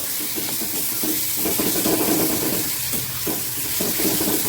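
Chicken marinated in salt and turmeric is stirred in a hot pan for a palak keema dish, giving a loud, steady sizzle and hiss with rough scraping of the spoon throughout and no voices.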